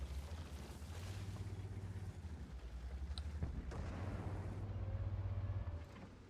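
A single deep cannon boom in a video game, heard once midway over a steady low engine-like rumble that runs through the whole moment, loud and close with no talking.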